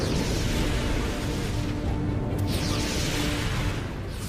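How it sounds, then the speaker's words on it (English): Dramatized explosions of the 1883 Krakatoa volcanic eruption form a loud, continuous rumbling roar with heavy low-end booms that carry on without pause, and no voices are heard. "The morning calm is shattered by one massive explosion after another."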